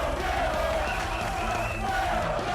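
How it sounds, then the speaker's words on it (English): An AEW wrestling arena crowd roars in a steady, dense wall of cheering and shouting, continuous and loud with no breaks, without a clear single voice standing out. "The crowd here, the faithful, certainly fired up as well."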